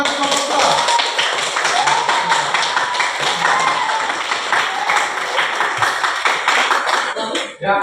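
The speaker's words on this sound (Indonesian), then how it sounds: "Kalau begitu kasih tepuk tangan untuk kelompok 2" Group 2 gets a round of classroom applause: many hands clapping together in a dense, steady wash that lasts throughout and dips briefly near the end.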